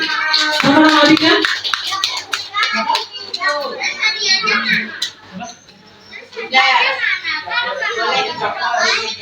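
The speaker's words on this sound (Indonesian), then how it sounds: "Tepuk tangan." Children at a Sunday school catechism session in a parish clap their hands together, loud and close, in bursts mixed with lively children's voices and chatter throughout.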